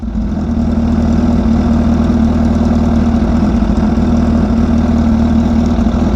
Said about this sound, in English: Let the bike run with a new exhaust system for a little bit.